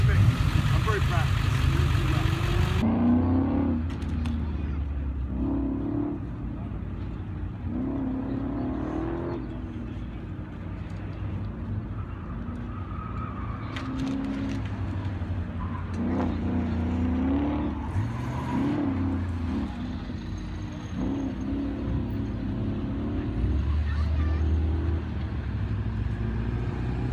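Corvette engine at an autocross charity event in Palm Springs, its revs rising and falling in bursts with a low exhaust rumble at moderate distance, mixed with crowd chatter and talking throughout.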